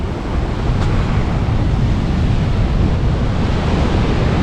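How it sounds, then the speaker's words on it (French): Calm sea waves wash steadily onto a beach in the Cinque Terre, a continuous soft surf hiss with wind buffeting the microphone, no voices and no distinct breaking crashes. "La mer elle est c'est vraiment trop calme et apaisant ça."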